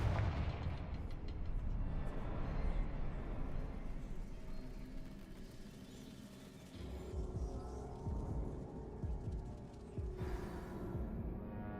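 Confringo explosive spell blasts in Hogwarts Legacy, a run of deep booming impacts with rumbling tails, heavy at first and then easing, with another burst arriving near the end over a steady game background.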